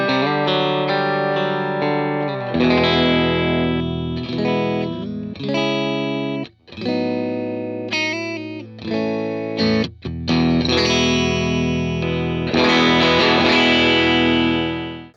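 A real Matchless C-30 tube guitar amp driven with some gain, playing chords and single-note phrases with a warm, slightly distorted tone and some reverb, up close and without talking.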